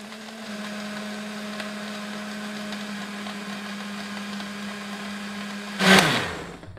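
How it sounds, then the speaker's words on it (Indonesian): A blender motor hums steadily at a constant pitch, then surges into a loud, brief whir near the end before cutting off. "sekarang kita nyalakan untuk mesin blendernya"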